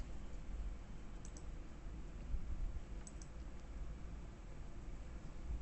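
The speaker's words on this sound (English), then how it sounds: "Typing one thing real quick" Light, rapid clicking of keys on a computer keyboard during a tabletop role-playing session, steady and close over a faint background hiss, with no talking.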